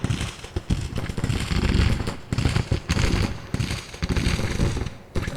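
Rapid musket volleys from an infantry brigade with a high rate of fire in the American Civil War strategy game Grand Tactician: Civil War crackle and pop in dense, overlapping bursts, loud and continuous, with brief lulls between clusters.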